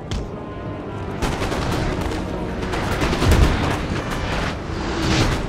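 Massed artillery booms and musket volleys in Napoleon: Total War, a dense, continuous battle roar with repeated sharp shots and heavier deep thuds layered throughout, loud and close with no talking.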